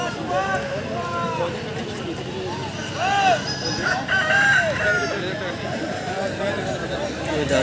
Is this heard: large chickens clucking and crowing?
yes